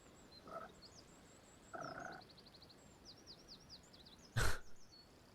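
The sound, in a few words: frog croaking in Pathfinder: Kingmaker video game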